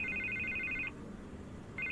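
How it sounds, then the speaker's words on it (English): A phone rings in Batman: The Telltale Series, a bright electronic trill repeating steadily for almost a second, then breaking off and starting again, loud over a low background rumble. "I can't get the phone to stop ringing"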